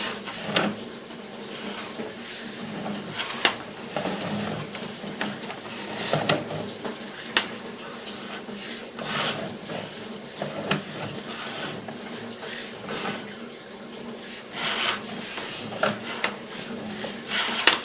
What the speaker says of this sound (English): I'm just going to run my camera back and forth through here and just see if I can loosen this stuff up.